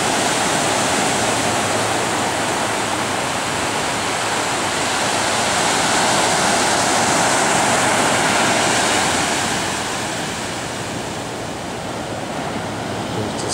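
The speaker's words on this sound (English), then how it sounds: "Nice waves." Ocean surf breaking steadily on a beach where locals surf, a loud, continuous roar of waves swelling and easing with no voices over it.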